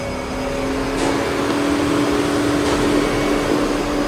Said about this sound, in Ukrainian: через деякий період у нас вмикається вентилятор охолодження